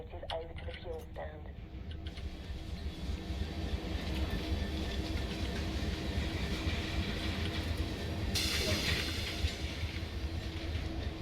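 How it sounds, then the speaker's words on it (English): A diesel locomotive in Train Sim World's Great Western Express route, uncoupled from aggregate wagons, rumbles along as it moves toward a fuel stand, a steady low drone with faint rail clatter and a brief hiss late on. "detach from the wagons and move the locomotive over to the fuel stand"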